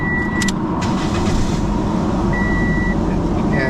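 A car engine, its throttle body just cleaned, runs loudly and steadily up close, with chime-like beeps over the idle and a voice briefly audible.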